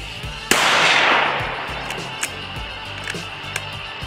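A single loud rifle shot at night during a hunt using a scope, a sharp crack followed by a long fading echo, with faint scattered clicks and rustles afterward.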